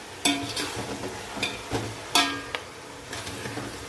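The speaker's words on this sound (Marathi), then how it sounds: "हा कोथिंबीर पुदिना आम्ही हलवून घेत आहे मस्तपैकी" Fresh coriander and mint being stirred in a pot for white chicken pulao, a series of scraping, rustling spoon strokes with faint sizzling underneath, heard close and without talk.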